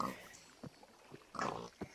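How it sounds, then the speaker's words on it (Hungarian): Pigs in a Minecraft-style game pen give a few short, separate oinks and grunts, quiet and spaced out over a faint background, with someone talking briefly at the start. "Na, itt a malacolunk."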